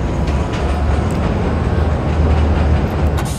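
Train running in Wolfenstein The New Order, a continuous loud low rumble and rattle of rail cars that rolls on steadily for the whole stretch with no talk.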